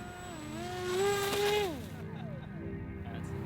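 A small foam radio-controlled toy airplane's electric motor whines up in pitch as it is throttled, then drops and settles into a steady buzzing drone while it climbs. The motor sounds fairly close, with faint voices at times.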